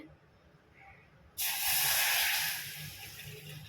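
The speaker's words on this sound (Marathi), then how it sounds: "थोडंसं कढई तापली आहे त्यामध्ये मी अर्धा ग्लास पाणी टाकणार आहे" Half a glass of water poured into a hot wok, bursting into a loud, sudden hiss of steam that swells, holds, then gradually fades, with a quiet room before it.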